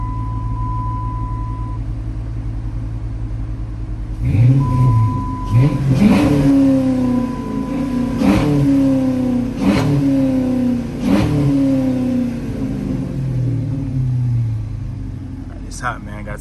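Straight-piped 2006 Dodge Charger R/T engine idling with a low rumble, then a series of about five sharp, loud revs that rise and fall back, close by with a faint whine underneath.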